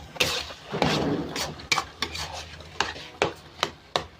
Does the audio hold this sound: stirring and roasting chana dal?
yes